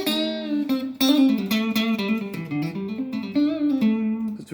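A minor pentatonic scale played on guitar, a steady run of plucked single notes climbing and falling, close and clear with no talk.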